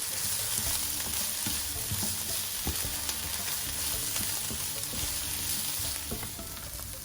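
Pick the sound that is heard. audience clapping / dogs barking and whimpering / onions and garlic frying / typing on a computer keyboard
onions and garlic frying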